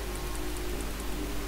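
Steady rain hisses in the Star Stable Online video game, a continuous even wash of sound with faint regular ticks above it and no voices.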